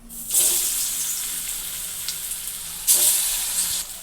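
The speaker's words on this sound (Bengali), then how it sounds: "তেলও গরম হয়ে গেছে এদিকে একটা একটা করে ধোকাগুলো নিয়ে ভেজে নেবো" Lentil cakes are being fried in hot oil, giving a loud, continuous sizzling hiss that swells again near the end as another piece drops into the pan.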